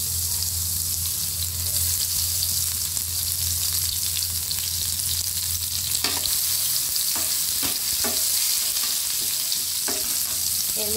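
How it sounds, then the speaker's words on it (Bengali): Chopped ginger and green chili sizzle steadily in hot oil for a veg paneer roll filling, with a bright continuous crackle and several scraping stirs of a spatula toward the end, close and alone. "তেল গরম হয়ে গেছে, আমি তেলের মধ্যে আদা কুচিটা দিয়ে দেব।"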